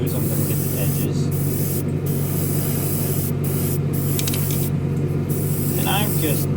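An aerosol spray paint can sprays a model car hood for a Revell 1971 Boss 351 Mustang kit, steady close hissing bursts with brief pauses between passes.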